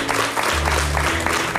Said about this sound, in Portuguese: Um aplauso para os dois.